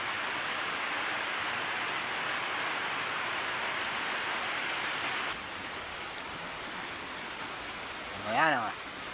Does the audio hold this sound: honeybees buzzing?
no